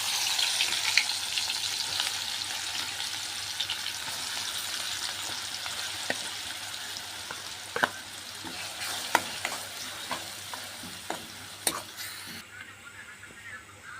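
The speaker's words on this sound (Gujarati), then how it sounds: "તેલ તો આપણે ગરમ થઈ ગયું છે અત્યારે ને હવે આપણે મસાલો નાખી દઈએ જીરું" Cumin and masala spices frying in hot oil for a soybean curry gravy, a steady crackling sizzle with scattered sharp pops and clinks of stirring near the end.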